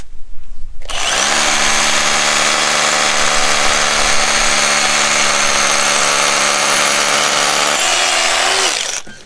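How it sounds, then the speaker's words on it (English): A loud power drill driving screws into a retaining wall block whines steadily at high speed for several seconds, then spins down and stops. "Drill on a slight angle"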